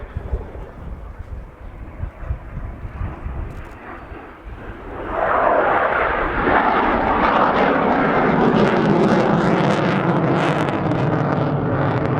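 A Belgian Air Force F-16 fighter jet at an airshow, with wind buffeting at first and then a loud roaring jet engine rising suddenly and sustained as the aircraft passes close, no speech.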